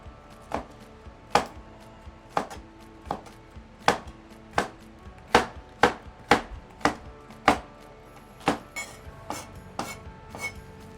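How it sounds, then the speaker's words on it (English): A knife slices bell peppers into strips on a cutting board, making about fifteen sharp, evenly spaced chopping knocks up close, with no talking. "So we're just cutting it in little strips."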